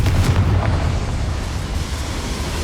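An explosive fire-spell blast in the Hogwarts Legacy video game, set in a mine, a loud dense rumbling boom that stays heavy and sustained through the short stretch.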